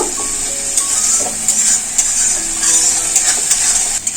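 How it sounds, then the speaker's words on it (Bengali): Mustard, green chilli and ginger paste being stir-fried with a little water for a fish jhal, a steady high hiss of sizzling with scattered scraping taps of a spoon in the pan, close and continuous. "বেঁটে রাখা সর্ষে কাঁচা লঙ্কা আদা দিয়ে দেব অল্প করে একটু জল দেবো এই মশলাটা একটু কষিয়ে নেব"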